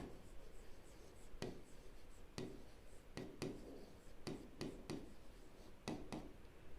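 Writing on a board during a maths class on the perimeter of a sector, heard as faint, close, irregular sharp taps and short strokes over quiet room noise.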